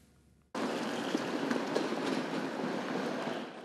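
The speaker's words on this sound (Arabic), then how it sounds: "القرن العشرين أصبح الترام الوسيلة الرئيسية للنقل في العاصمة" Kyiv tram rolling along its rails, a steady rumbling roar with faint clattering that starts abruptly and holds loud and close to the end, with no voices.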